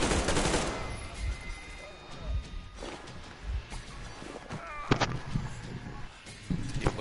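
Scattered bursts of video game gunfire from Metro Exodus, fairly quiet, arriving in irregular clusters with brief pauses in between.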